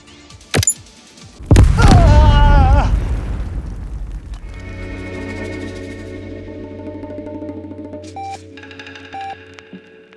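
A fireworks explosion sound effect in a Cantonese comedy drama: a sharp pop, then a loud booming burst with a whistling tail, followed by lingering ringing electronic tones.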